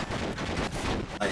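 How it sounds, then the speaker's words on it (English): A brief, loud burst of sniper rifle fire from the Cursed Halo video game, with a dense, harsh crack filling the short moment. "I got sniped."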